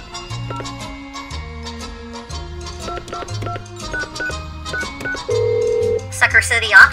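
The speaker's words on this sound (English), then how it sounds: "I'm gonna call this number. Just put it on speaker here." A telephone on speakerphone dials out: a steady dial tone holds for about a second, then quick keypad tone beeps follow near the end, all over continuous background music.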